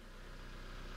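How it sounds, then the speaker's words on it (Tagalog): A car engine idles after its copper spark plugs were swapped for iridium ones, giving a quiet, steady low hum with an even pulsing beat throughout. "Okay, so pandaran natin yung makina."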